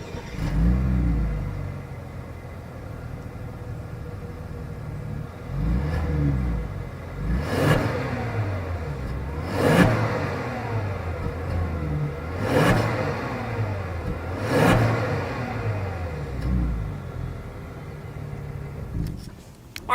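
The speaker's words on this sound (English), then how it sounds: "As always, here is that exhaust clip." A 2020 Genesis G80 Sport with quad chrome exhaust tips idles and then revs repeatedly, several sharp throttle blips rising and falling in a steady rhythm over a low rumbling idle, close up and without talk.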